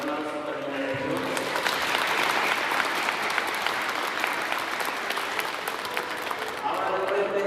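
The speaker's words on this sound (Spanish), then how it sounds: "Un aplauso también a ellos." Steady, dense clapping from a congregation at a wedding mass, holding evenly from start to finish, with brief talking heard at the edges.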